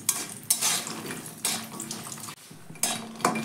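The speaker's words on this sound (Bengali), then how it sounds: "আমি প্রথমে তেলের মধ্যে বড়িগুলো দিয়ে ভেজে আনবো" Lentil dumplings (bori) fry in oil in a wok for a Bengali fish curry, with a steady soft sizzle beneath loud metal clatter of a spatula scraping and knocking the pan in several bursts.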